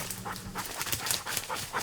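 A hunting dog pants in rapid, steady breaths during a grouse and duck hunt in autumn woods, close and fairly clear against faint outdoor background noise.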